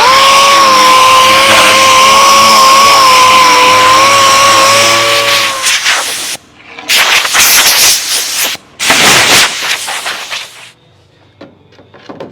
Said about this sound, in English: Some 120 grit on the DA just to clean up our edges here.